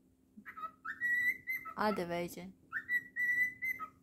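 A pet cockatiel whistles a tune, likely Jingle Bells, in clear, high, sustained notes with short pauses between phrases, while someone speaks briefly in the middle.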